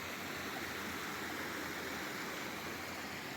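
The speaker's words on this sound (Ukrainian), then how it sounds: "Тут у нас струмок з чистою водою." A stream flows steadily, with an even rushing of water that stays constant and fairly soft throughout.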